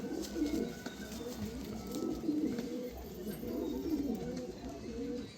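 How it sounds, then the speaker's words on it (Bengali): Pigeons in a small domestic flock coo in low, repeated rolling calls, soft and close, continuing steadily throughout with faint background noise. "অল্প কিছু পায়রা আছে"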